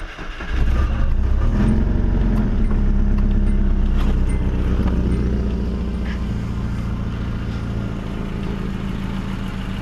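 A Nissan 240SX S13 with a swapped dual cam engine and five-speed, sitting unused for two years, cranks and catches, then runs roughly with a rattle; a loud, uneven idle surges at first, then settles lower and steadier.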